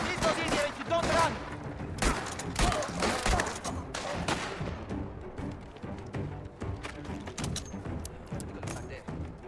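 Gunfire from the video game Mafia: The Old Country rattles in scattered, fairly faint bursts and thumps, mixed with game sounds and shouted voices across the scene.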